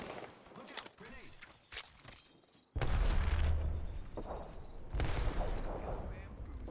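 A grenade blows up in the Apex Legends battle royale game with a sudden loud, booming blast, followed moments later by a second heavy burst of explosive noise over ongoing gunfire and game sounds.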